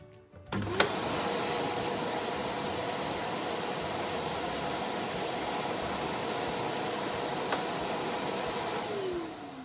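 An old 2200-watt bagged vacuum cleaner switches on and runs at a steady, loud whining roar close by for several seconds before beginning to wind down.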